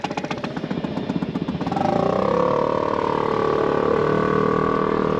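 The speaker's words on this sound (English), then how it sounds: "I'm going to yank the outboard around and pop it into reverse, and that's going to pull my back in" Boat outboard motor close by, first chugging at an uneven idle, then rising into a steady, louder drone as it is shifted into reverse.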